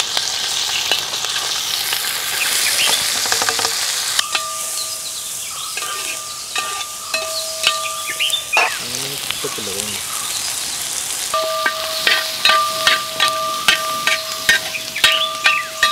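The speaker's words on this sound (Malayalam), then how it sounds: "നമ്മളിനി അതിലോട്ട് ഉള്ളിയും ഇഞ്ചിയും നമ്മൾ അരിഞ്ഞെടുത്ത പച്ചമുളകും വെളുത്തുള്ളിയൊക്കെ ഒന്ന് മൂപ്പിച്ചെടുക്കാനായിട്ട് പോവുകയാണേ" Onion, ginger, chopped green chilli and garlic sputter in hot oil in a pan used for frying pearl spot fish, a loud crackling sizzle with stirring scrapes, while steady tonal beeps and faint birdsong sound in the background.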